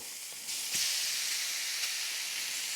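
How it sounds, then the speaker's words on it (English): Applewood smoked bacon dropped into a hot pan that just cooked chorizo, a loud, steady close-up sizzling hiss that kicks in after a half second and runs on without a break, no voices. "Gonna take this, cook it in that pan."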